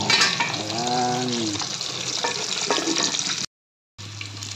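Rice boils in a pot, giving a steady close bubbling hiss. A voice briefly speaks early on, and the sound cuts out for a moment near the end before resuming.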